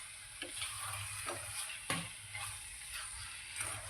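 Vegetables stirred with green chili sauce in a hot pan for paneer momo filling, a soft steady sizzle with a few clicks and scrapes of the spoon against the pan, close and fairly quiet.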